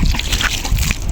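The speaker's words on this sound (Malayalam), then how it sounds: "ഈ വെള്ളം എടുത്തിട്ട് അങ്ങ് ഒഴിക്കാം" Water is poured over a muddy car bonnet, splashing and sloshing in short irregular bursts close by, loud and uneven throughout.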